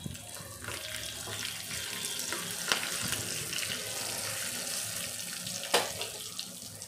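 Curry leaves, green chillies and a pinch of hing crackle in hot oil as a tempering for rice-and-dal dhokla, a steady close hiss with a couple of sharp pops and no talking.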